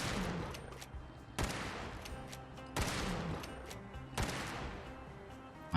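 A .50 caliber Winchester rifle fires in Fallout 4. Four heavy, booming shots come about every second and a half, each trailing into a long rumbling echo that fills the gaps.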